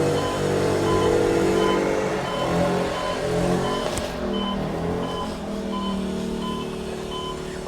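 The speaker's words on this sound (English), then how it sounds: "you will hear the traffic noise at night and during the day" Road traffic from a nearby highway passes new homesites near Eastport, Florida, a steady low rumble of cars and trucks with faint distant beeps, no talk.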